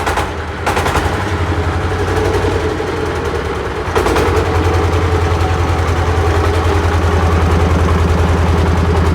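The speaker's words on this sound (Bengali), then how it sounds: "এটা হচ্ছে সাংসাই 20 ঘোড়া ইঞ্জিন" A Sangsai 20-horsepower diesel engine runs loud and close with a fast, rhythmic chugging pulse. The throb shifts slightly a few seconds in, then carries on evenly.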